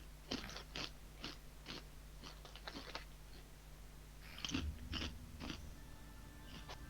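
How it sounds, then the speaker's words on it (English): Someone crunching chips close to a microphone, a run of sharp, irregular crisp bites and chews that come in bursts, audible over a quiet room hum with no talking. "Who's eating chips?"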